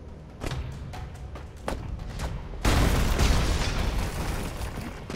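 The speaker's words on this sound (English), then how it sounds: "Oh, he uses bombs" Explosions from bombs in the side-scrolling action game Broforce: several sharp booming bursts in quick succession, then a louder, sustained blast with a rumbling roar that carries to the end.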